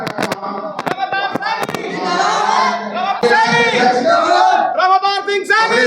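A packed crowd at a Samajwadi Party political rally in Bijnor, Uttar Pradesh, chanting and shouting slogans loudly and close by, voices swelling into a continuous roar after a few sharp bangs at the start.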